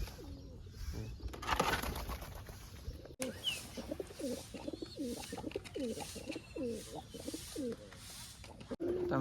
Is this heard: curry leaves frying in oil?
no